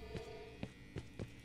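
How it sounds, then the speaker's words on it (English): A steady low electrical hum drones inside the Project 13 video game, faint and constant, broken by four soft, evenly spaced dull thumps. "Yeah, there's, like, a humming sound."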